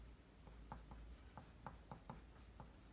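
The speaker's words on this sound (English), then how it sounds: "Let me draw that and shift my paper here a little bit." A pen draws on paper while sketching a chemistry molecular-geometry diagram: soft, close scratchy strokes in short irregular bursts, quiet and alone.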